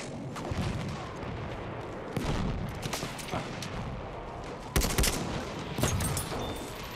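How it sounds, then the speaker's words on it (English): A grenade explodes in Battlefield 1 on the Tsaritsyn map during a loud firefight, with several sharp, heavy blasts and gunfire bursts in a continuous barrage of battle noise. "Oh, my grenade does its job."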